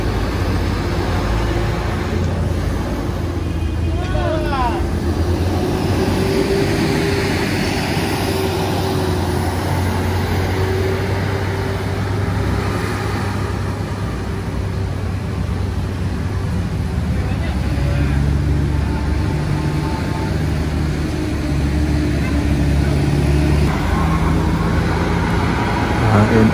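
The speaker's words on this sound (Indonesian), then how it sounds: "Dan di belakang ANS ada lagi, masih dengan bus transport." A transport bus grinds past on the winding Sitinjau Lauik mountain road, its deep engine rumble steady and close for a long stretch, with surrounding traffic noise and a voice speaking over it.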